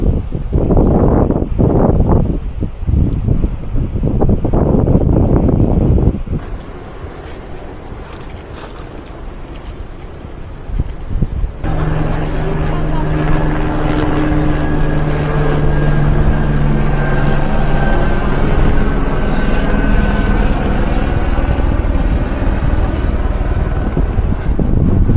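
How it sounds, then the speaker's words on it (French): A helicopter resupplying a high mountain refuge sends a steady, loud rotor and engine roar throughout, mixed with heavy wind buffeting on the microphone in the first few seconds, no talk. "Ravitaillement du refuge, vous voyez, l'hélicoptère il va poser le sac et il va se barrer."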